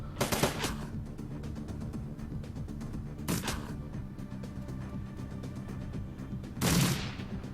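Gunfire from a Shadowrun: Dragonfall video game fight against a turret comes as three sharp, rattling bursts spaced a few seconds apart over a low, steady game background.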